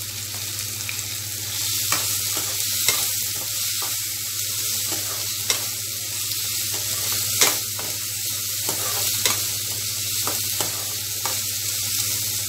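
Vegetables sauté in oil in a pan for semiya kichadi, a loud, steady close sizzle with intermittent scraping clicks of a spoon stirring throughout.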